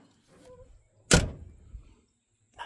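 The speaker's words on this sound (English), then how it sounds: "The door that shuts pretty good. Actually, shuts really good." A truck door slams shut once with a sharp, solid thud that rings out briefly, preceded by a faint click and followed by a soft latch sound.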